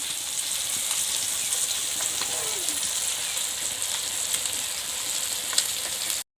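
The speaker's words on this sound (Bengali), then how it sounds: "এই দেখো আমি কিন্তু মাছটা পাল্টে ভেজে নিয়েছি।" Rohu fish pieces frying in hot oil, a steady close hiss of sizzling with faint crackles, continuous and even throughout, no one talking.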